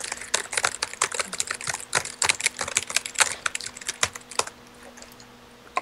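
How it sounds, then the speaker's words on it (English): Rapid, busy clicking of computer keys in uneven bursts, close and fairly loud, easing off briefly near the end. "What are you typing?"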